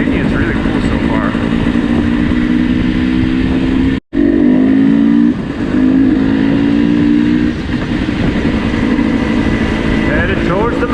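A dirt bike rides through a small town in Romania, its engine buzzing loud and close with wind rush, one brief cut, and shifting revs as a rider talks over it.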